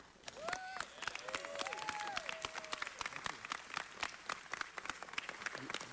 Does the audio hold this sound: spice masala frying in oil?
no